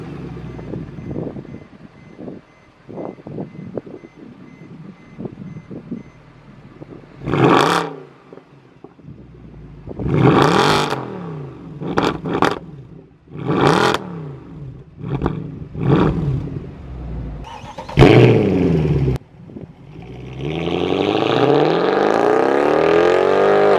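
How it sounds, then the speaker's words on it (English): A 2012 Mercedes C63 AMG exhaust, heard from the rear: a low idle burble breaks into a series of sharp, loud revs and crackles, then a final long roaring hold. No talk. "let's go to the back and get one of the meanest exhaust clips I've ever heard"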